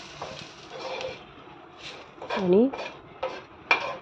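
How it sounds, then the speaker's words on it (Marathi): Fresh and dried grated coconut being sautéed in a pan, with repeated spoon scrapes and clinks against the metal over a light sizzle, and a brief spoken word. "आता आपण ओलं खोबरं टाकूया, त्याचबरोबर सुकं खोबरं पण टाकून घेऊया आणि चांगलं परतून घेऊया आपण।"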